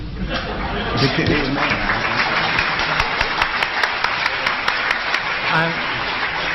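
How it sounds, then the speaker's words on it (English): Lecture audience applause mixed with chatter and light laughter. The clapping rises and falls with some sharp individual claps, and voices murmur underneath. "I'm delighted with the applause from the architect."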